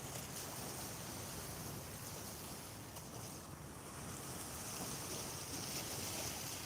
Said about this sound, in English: the ferry's moving now. It's turning around.